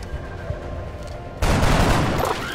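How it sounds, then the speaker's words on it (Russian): A gunshot fired in the XCOM: Enemy Within video game. It arrives as one sudden loud burst after a quieter stretch of game background sound, then continues as a dense, noisy roar to the end. "Ну, выстрелю."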